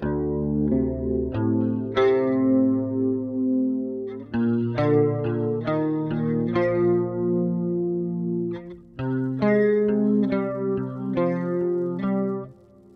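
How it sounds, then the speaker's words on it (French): A reverb effect from a bass pedalboard colors a melodic bass line, notes blooming and sustaining with a chorus-like wash and tails that ring between phrases, steady and close throughout with no one talking. "Il y a de la reverb maintenant."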